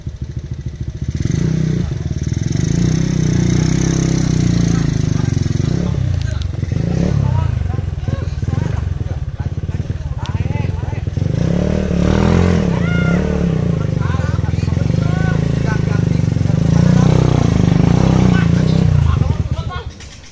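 A motorcycle engine idles and revs steadily throughout, loud and close, on the set of a Sundanese comedy shoot, with voices talking underneath the engine.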